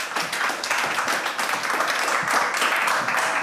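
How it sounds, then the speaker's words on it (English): Live audience at an Edinburgh Festival comedy show applauds to welcome comedian Peter Antoniou to the stage, a dense, steady wash of clapping that fills the room from start to finish. "Round of applause, everyone."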